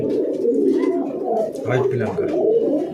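Andhra pigeon cooing in soft, low repeated phrases close by, with people talking over it.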